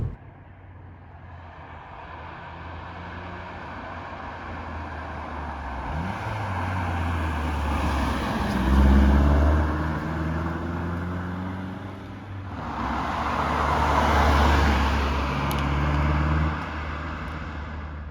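A 2010 Mazda 3 MPS in Aluminium Silver driving along a road, its steady engine drone and road roar rising and falling as it speeds up, with low engine tones shifting through the ride and no talking.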